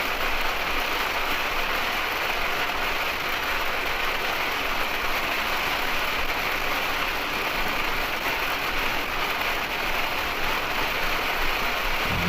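Steady heavy rain pours on a motorhome driving through a storm with wind and a waterspout between Mobile and Spanish Fort, a dense unbroken hiss with a low road and engine rumble beneath.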